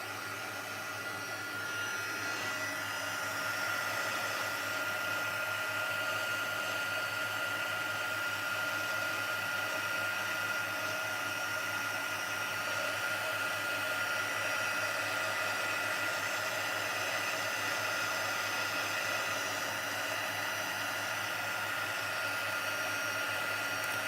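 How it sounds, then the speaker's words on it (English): Handheld heat tool melting white embossing powder on black cardstock, a steady close-up blowing whir like a hair dryer that starts softly, then holds level and loud throughout, alone with no talk. "I'm just going to bring my heat tool in and melt that powder."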